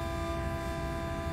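Horn of an MP36PH diesel locomotive in Train Sim World 3, on an evening California route, sounding a steady sustained chord with no talk over it.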